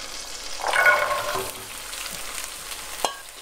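Onions and carrots hitting melted unsalted butter in a pot over medium heat, a sudden crackling sizzle that settles into a steady hiss, with a sharp clink of a spoon near the end.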